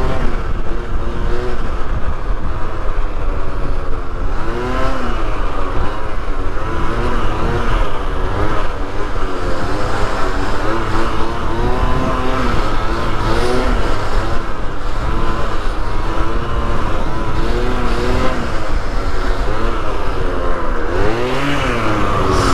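A booster scooter's engine holds a steady, loud, high-pitched rev throughout a wheelie stunt, droning continuously close by with slight pitch wavering and no pauses.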